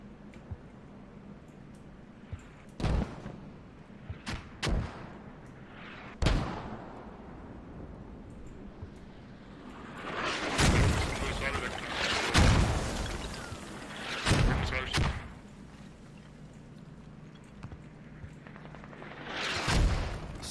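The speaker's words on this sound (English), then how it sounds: "So those mortars coming in" Mortar rounds land in a video game match as a string of separate deep booms spread over about twenty seconds, some faint and distant, a cluster louder and heavier in the middle.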